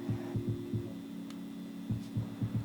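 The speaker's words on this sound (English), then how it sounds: "That's the pump you can hear." A low steady PC liquid-cooling pump hum drones throughout, with fans at low speed, soft rhythmic throbbing pulses in two clusters and a faint brief tick in the middle.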